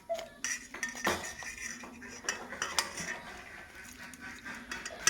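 A utensil scrapes the seeds out of halved pointed gourds in a bowl, with repeated clinks and scrapes of metal against the dish, close and moderately quiet, with no speech.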